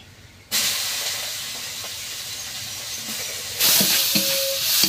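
Shrimp hit a hot pan seasoned with turmeric and salt, bursting into a sudden broad hissing sizzle that holds steady, then surges louder as more goes in.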